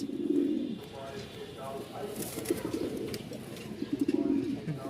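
Big-sized Danish pigeon pairs and other fancy pigeons coo in repeated low rolling bursts close by, overlapping someone talking steadily through most of the stretch.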